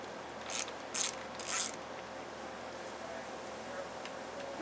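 Ratchet loosening 10 mm bolts on a Honda Accord F22 2.2L engine during a timing belt job, three quick bursts of clicking close up, followed by quiet shop background.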